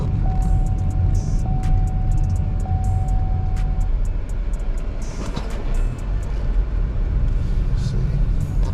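A car engine idling at a dealers-only auto auction, a steady low rumble and drone lasting throughout, with faint background noise and a thin tone in the first few seconds.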